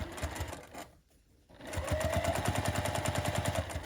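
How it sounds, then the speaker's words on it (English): Sewing machine stitching the binding on a quilted St. Patrick's Day placemat, a fast close rhythmic needle chatter that briefly pauses, then resumes at steady speed. "Here's where I started, and I'm just going to sew right up to that."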